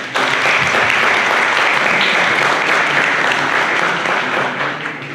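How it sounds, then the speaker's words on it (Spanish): An audience applauds loudly for a speaker at a panel discussion held at the Archivo General de la Nación, with steady dense clapping throughout that tapers slightly at the end. "pido un fuerte aplauso"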